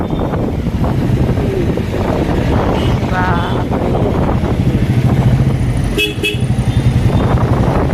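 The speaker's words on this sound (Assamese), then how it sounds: "হৰণ মাৰ, হৰণ হৰণ।" Vehicle horns honk in a traffic jam during a Sunday motorbike ride, with repeated toots over a loud, steady road rumble and wind buffeting the microphone, and one sharper, higher horn blast standing out near the end.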